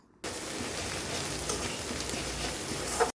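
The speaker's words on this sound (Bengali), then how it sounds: "তো এখন মশলাগুলো আস্তে আস্তে ভালো করে কষায় নেব।" Spice paste with cashews and raisins frying in a pan for a yogurt catla fish curry. A dense, even hiss starts abruptly and holds steady for about three seconds before cutting off.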